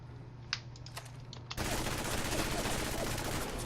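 After a few faint clicks, a minigun in Fallout 4 opens up into a dense, continuous roar of rapid fire that stays loud and unbroken to the end.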